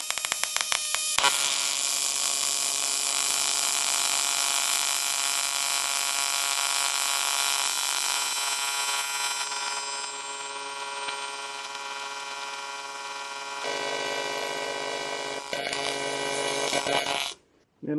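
Aluminum is TIG welded on pulse mode by a 110V home and shop welder. A bright, steady buzzing hiss holds loud and close for about sixteen seconds, then cuts off abruptly.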